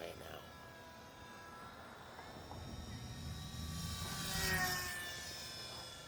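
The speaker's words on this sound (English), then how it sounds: "this plane's always been rattly and noisy" An E-flite J-3 Cub UMX small RC plane's electric motor whines in flight, a thin tonal buzz that swells as it passes closer and then fades, with a voice talking over it.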